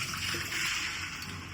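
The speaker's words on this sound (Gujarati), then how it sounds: "એમાં 1 ગ્લાસ પાણી નાખવાનું છે આ રીતે" A glass of water poured into a pan, set up for steaming eggplant fritters, giving a steady close trickle and splash that runs throughout without pause.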